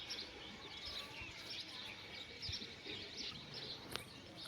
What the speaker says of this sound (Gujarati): એક બાજુ પક્ષીઓનો અવાજ આવતો હોય